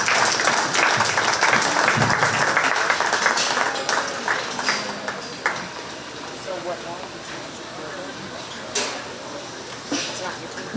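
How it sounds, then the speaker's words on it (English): Crowd claps for exhibitors in a 4-H swine show ring at a county fair, loud and dense at first, then thinning into scattered claps and room noise. "please give those exhibitors a big round of applause"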